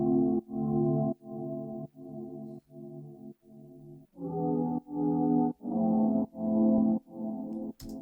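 Soft synth pad from Analog Lab with sidechain processing for a trap soul R&B beat, pulsing in about a dozen rhythmic swells that duck and return, warm and low, heard alone without talking.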